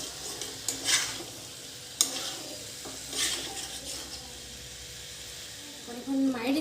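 Chickpeas and potatoes frying with spices in a pan: a soft sizzle runs under scattered stirring scrapes and light utensil knocks, moderately close.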